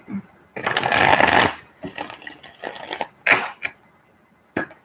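Tarot cards being shuffled up close, a long riffling burst followed by several shorter flicks and taps of cards, fairly loud with no speech.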